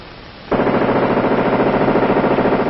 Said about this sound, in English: The Gatling gun, invented by a doctor of medicine, James Gatling